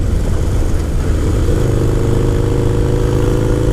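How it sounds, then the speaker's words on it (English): A Harley-Davidson Sportster motorcycle fitted with LA Choppers mini ape bars runs on a test ride, its engine rumbling steadily and loud, close up, with a constant low throb and wind noise and no talking. "got to make sure that I keep the engine engaged in the right gear"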